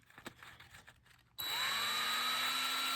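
A Daiwa Gold Series GS 10 fishing reel gear sleeve is sanded with sandpaper. After some faint handling, a powered spinning whine starts abruptly and holds loud and steady.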